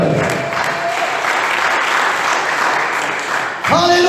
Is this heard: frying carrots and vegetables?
no